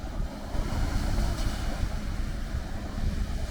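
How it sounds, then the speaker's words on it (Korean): Sea waves crash against rocks along a rocky coastal path, a continuous loud wash of surf mixed with gusting wind buffeting the microphone, with no voices. "돌에 부딪히는 파도 소리가 시원하네요"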